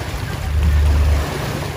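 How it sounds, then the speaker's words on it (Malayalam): A boat runs past on open water during a salmon fishing trip in Ontario, its low engine rumble swelling to a peak midway and then easing off, with wind and waves washing underneath. "ഒരു ബോട്ട് അതുവഴി പറന്ന് വരുന്നുണ്ട്"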